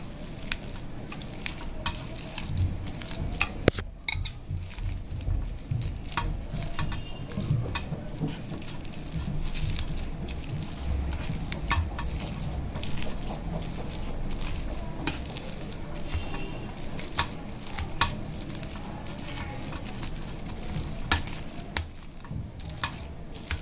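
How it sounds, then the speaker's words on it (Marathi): Boiled potatoes are mashed in a home kitchen to make egg lollipops. Repeated pressing and scraping strokes sound close and fairly steady against a continuous background hiss, with occasional sharper clicks and no talking. "आता मी इथे हे बटाटे शिजवलेले आहेत ना ते आता मी मॅश करणार आहे"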